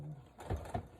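A sewing machine runs a straight stitch on stretch fabric for a twisted headband, with a short whirring burst and a couple of soft mechanical thumps, close and brief.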